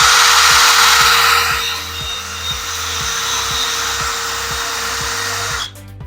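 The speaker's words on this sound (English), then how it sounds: "you're gonna be drilling 4 holes about a few inches, maybe 3 or 4 inches from the top" A power drill bores holes into a garden tower tube, giving a loud, steady, close whine that runs unbroken for several seconds before cutting off abruptly near the end.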